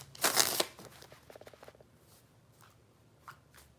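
A deck of tarot cards gives one loud, brisk riffle near at hand, followed by softer tapping and rustling as the cards are squared and handled.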